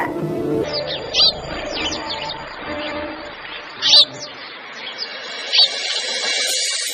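A caged bird gives bright, repeated chirps, with several louder, sharper calls standing out over softer twittering, close and clear with no voices.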